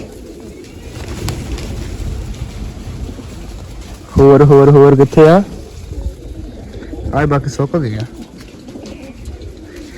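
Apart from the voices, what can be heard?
pigeons cooing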